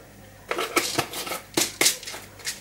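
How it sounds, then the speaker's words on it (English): Whole peppercorns drop into a jar of scotch bonnet peppers with a handful of sharp, close clicks and rattles, spaced irregularly over a couple of seconds. "I'm going to add some peppercorns to this."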